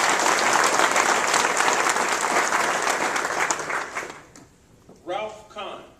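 Dense applause from an audience at a NASA agency awards ceremony, loud and sustained for about four seconds before fading out, with a brief voice at the end.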